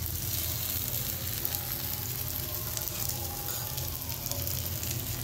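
Pumpkin bhakri frying in oil on a hot griddle gives a steady, dense sizzle with crackling pops, close and continuous throughout with no talking.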